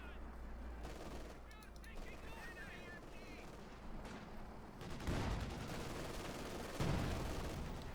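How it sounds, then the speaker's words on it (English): Machine gun fire from a .50 caliber mounted on a Sherman tank in the WWII strategy game Company of Heroes 2, bursts of gunfire in a busy battle mix with louder shots near the end. "adding the 50 caliber machine gun"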